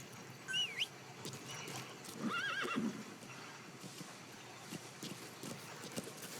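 A horse in Metal Gear Solid V whinnies twice, high and shrill, over a soft clatter of hoofbeats and background noise, all fairly faint.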